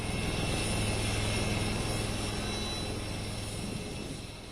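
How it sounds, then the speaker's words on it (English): A newly inducted Prachand light combat helicopter in flight, its engine and rotor roar steady, loud and close, fading slightly toward the end with no voices. "Defence Minister Rajnath Singh taking a sortie in newly inducted light combat helicopter Prachand"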